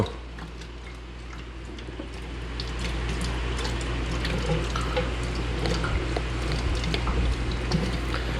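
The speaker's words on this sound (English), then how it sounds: "I'm going to open the valve back up again, and we're going to flush out filter number 2." Beer rushing through a small plate filter kit after its valve is reopened to flush the second filter: a steady, fairly loud wash of flowing liquid over a low constant hum, with scattered drips and ticks throughout and no speech.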